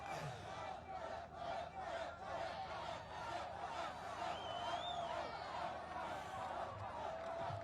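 A large outdoor political rally crowd roars and shouts continuously from a distance, a steady wash of cheering and voices without pause.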